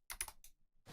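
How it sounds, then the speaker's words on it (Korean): Several quick computer keyboard keypresses come in close and crisp during Diablo 2 play: a short cluster of clicks, a pause, then one more press. "키보드 누르는 소리 들리시죠?"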